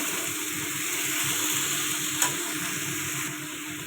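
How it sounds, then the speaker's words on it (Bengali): Pumpkin, potato and ridge gourd curry sautés in a pan, a close, continuous sizzle with stirring and one brief sharp scrape. "এটা ভালো করে কষিয়ে নেব।"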